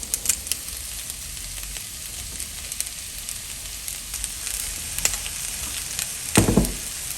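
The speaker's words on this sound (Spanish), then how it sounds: "Ya tenemos listo nuestro jitomate con chile guajillo. Aquí le voy a empezar a agregar los nopalitos." Nopales frying in a tomato and guajillo chili sauce give a steady close sizzle with light stirring clatter and a brief louder scrape near the end, and no voices.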